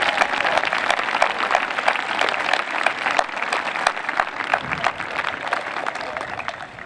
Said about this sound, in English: Would you please join me in recognizing these individuals with a round of applause?